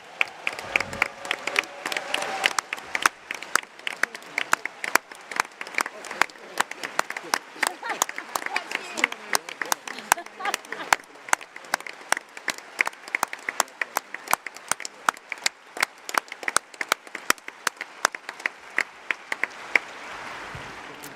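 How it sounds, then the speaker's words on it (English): Party conference audience at a Labour Party gathering applauding party staff, a long, dense burst of clapping that runs steadily for about twenty seconds with a few crowd voices mixed in. "can we have a massive round of applause for party"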